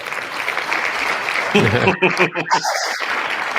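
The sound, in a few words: crowd noise and clapping sound effect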